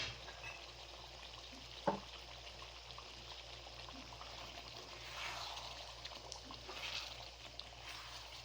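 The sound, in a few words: mutton karahi frying in a pan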